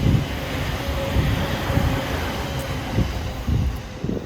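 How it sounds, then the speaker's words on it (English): A train rumbles past nearby in Tokyo, a continuous low mechanical roar with periodic clunks from the cars, steady throughout. "Hello train! Nice of you to come by!"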